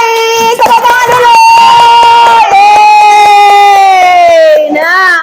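Children in a classroom cheer and shout for the first-place winner of a class quiz, a loud, sustained chorus of young voices that rises and dips across the whole stretch, with an adult voice speaking through it.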